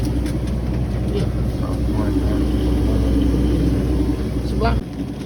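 Boat engine of a dinghy running steadily on a river in the rain, a constant low droning hum with a steady pitch that drops away near the end, with speech faintly present.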